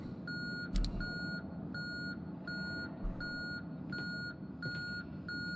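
Repeated electronic beeping in the video game Conarium: a regular series of short, evenly spaced tones sounding over a low rumbling background drone, with a couple of soft thuds and no talking.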